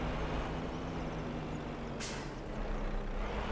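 A truck air brake in Farming Simulator 25 releases one short sharp hiss midway over a steady low idling engine rumble.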